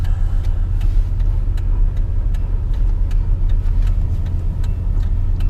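A combine harvester's engine drones steadily as the machine drives along a road in a low gear, a loud continuous low rumble with faint ticking on top and no talk.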